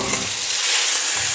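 Spices tipped into hot oil with tempering seeds in a home kitchen pan, giving a brief, loud, broadband sizzle that fills the moment without any voices.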